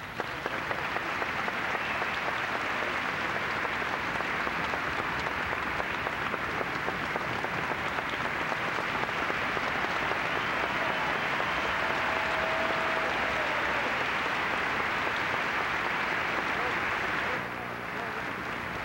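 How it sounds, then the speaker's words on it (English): Sustained crowd applause at the 1984 Memphis tennis tournament final for organizer Tommy Buford, a dense steady roar of clapping that runs without pause for nearly the whole stretch before dropping off at the end. "he's the man that I'd like for everybody to be very proud of and give a round of applause."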